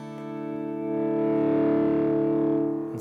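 Guitar chord swelled in with a volume pedal through a generous dotted eighth note delay and a little reverb, a sustained harmonic tone rising smoothly in loudness and holding steady with echoing repeats, heard alone.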